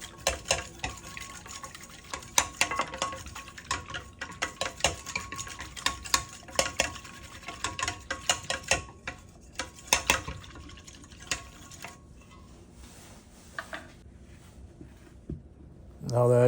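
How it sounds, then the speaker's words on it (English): Sourdough starter is whisked into water in a bowl with a sourdough mixer, making rapid, uneven clinking and sloshing strokes up close that slow and fade toward the end. "just whisking it with our sourdough mixer"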